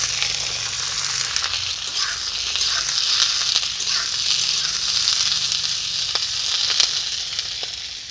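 Small cauliflower florets sizzle steadily in hot oil with cumin seeds and ginger paste in a home kitchen wok, a close continuous frying hiss with faint crackles and no talking.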